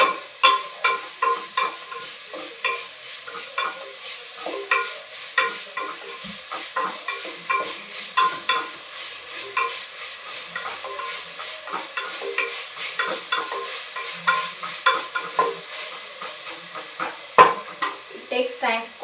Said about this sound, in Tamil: வெங்காயம் நல்லா வதங்கி வந்ததும்